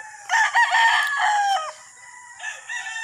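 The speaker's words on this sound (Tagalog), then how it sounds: "Nandito ako sa manukan ni Randy Hebron" Roosters at a gamefowl farm crow loudly and close by. Several overlapping crows rise and fall, followed by a short quieter break and another crow.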